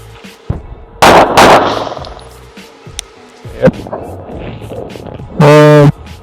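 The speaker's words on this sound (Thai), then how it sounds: "ทีนี้ก็จะยิงแล้วสองนัดสองครั้ง" A 1911 DS Prodigy AOS 9mm pistol firing at a range, loud sharp reports with some echo plus smaller clicks and handling noises in between, ending in a metallic ringing buzz.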